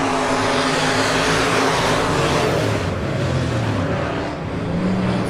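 Super stock race cars thunder around a dirt oval in a weekly championship heat race, several engines roaring together in a loud, continuous wash that swells and recedes slightly as the pack passes.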